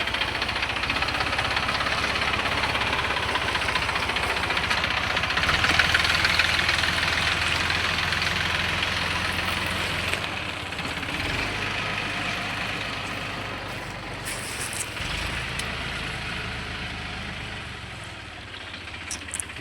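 A Deutz-Fahr tractor on a sand-loading trip at the Panam river runs with a steady, low, throbbing engine note, mostly even with slight swells, and no voices over it.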